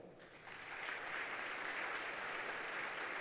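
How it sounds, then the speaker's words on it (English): Applause from an audience at the MUSC topping out ceremony, a steady wash of many hands clapping that swells after the first half second and holds evenly, moderately distant and without speech. "I want to thank you for that applause."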